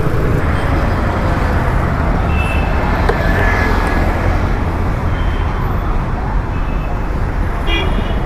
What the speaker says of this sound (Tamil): ஸோ அதனால் கொஞ்சம் டிராஃபிக்கும் இருக்குது.